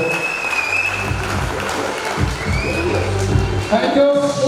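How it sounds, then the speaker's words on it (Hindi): Loud audience applause fills a hall after a call for a big round of clapping at a speech event in Rewari, with scattered cheers and a few voices over the steady clatter of hands. "मैं चाहूंगा उनके लिए एक जोरदार ताली हो जाएगा"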